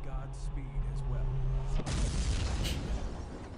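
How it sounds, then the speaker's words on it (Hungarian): A large explosion in the PC game Quake II bursts midway as a deep rumbling boom that swells and lingers, following a low droning hum of game sound beforehand. "Basztom, milyen epikus robbanás volt."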